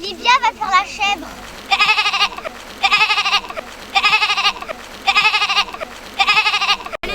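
A voice imitating a goat, giving five loud, evenly spaced bleating cries after some quick warbling vocal sounds at the start, close and clear.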